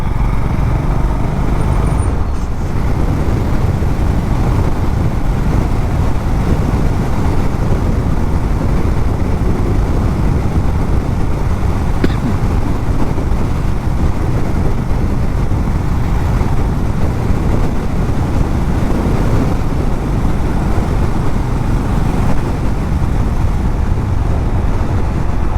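Riding a motorbike on National Highway 6, the Bombay Road, produces loud, constant road and wind rumble mixed with engine drone, steady and unbroken for the whole stretch with no speech.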